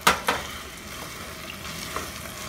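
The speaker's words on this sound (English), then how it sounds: "And now the whole can of diced tomato," Whole can of diced tomatoes stirred into a hot pan, a couple of quick wet clatters at the start and then a steady soft sizzle close by.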